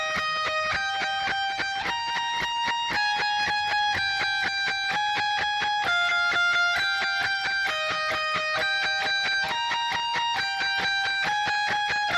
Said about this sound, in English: So this is a tremolo picking part, and it sounds like this really slow.